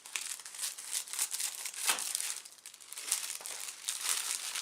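Packaging being cut open with scissors while unboxing an airsoft USP .45 Match pistol: continuous close crinkling and crumpling of wrapping with sharp snips and tearing bursts throughout.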